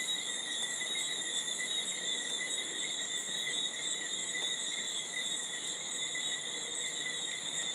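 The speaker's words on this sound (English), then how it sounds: "Those are the toads and cicadas." Dense insect chorus of cicadas with toads calling at night, a steady shrill multi-tone drone holding level throughout, moderately distant, with no voices over it.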